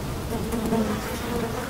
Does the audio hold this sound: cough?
no